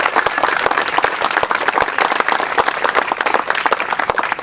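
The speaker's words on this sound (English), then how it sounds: "I also want to give a big round of applause to our facilities committee." Audience applause at a groundbreaking ceremony for a YMCA in Berkeley Heights, a dense, continuous patter of many hands clapping close by, holding steady throughout with no talk over it.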